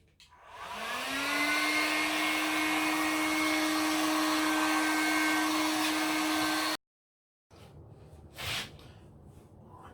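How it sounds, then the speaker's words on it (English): A hot air gun blows steadily to dry fresh paint on a kitchen cabinet door, a loud sustained whine with a rising start, cutting off abruptly, followed by quieter handling sounds and a short burst of air. "So what I'm going to do now is just dry it off with the hot air gun so I can put a second coat on there."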